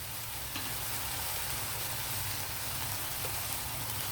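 Tomatoes soften in a hot pan for ridge gourd prawn curry, giving a continuous dense sizzle close by with a faint tick or two, no voices.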